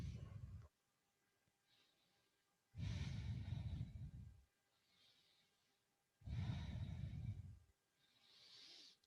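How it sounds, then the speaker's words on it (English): Slow, deep yoga breathing: three long, close, audible exhales roughly every three to four seconds, each followed by a softer, airy inhale, with no talking. "Breathing."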